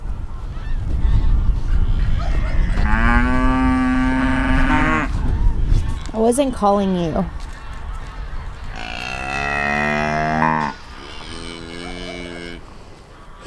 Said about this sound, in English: all the rest of the cows are now coming